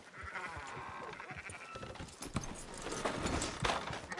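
Sheep bleating in Red Dead Redemption 2, several close, wavering calls rising over rustling and hoof-like clatter of a small flock at a ranch.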